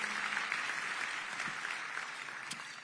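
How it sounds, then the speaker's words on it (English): Sustained audience applause fills a hall during a DeKalb County State of the County address, dense steady clapping close and loud throughout, with a faint voice briefly underneath. "Give him a round of applause."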